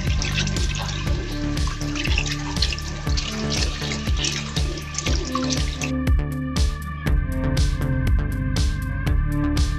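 Small onion leeks washed one by one under a running kitchen tap for kimchi, water splashing and trickling steadily into the sink with a continuous close-up rush throughout.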